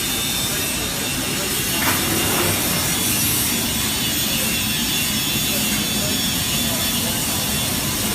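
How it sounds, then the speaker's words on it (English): Arc welding on metal produces a loud, steady crackling sizzle that holds continuously and close throughout without a break. "Now that we've got the right piece of metal, we can get to welding."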